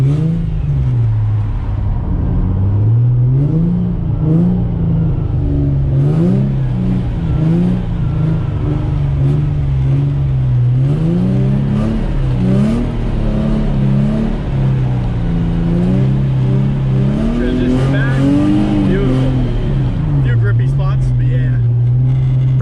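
A drift car circles a cone doing donuts at a Texas drift academy, its engine droning and rising and falling with throttle in steady waves, close and loud, with people talking over it.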